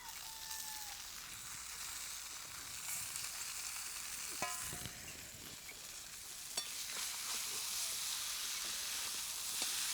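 Masala for a traditional kurdai bhaji fries in a pan while being stirred, giving a steady hiss of sizzling with occasional scraping knocks of the spoon against the pan, close and moderately quiet, with no talk.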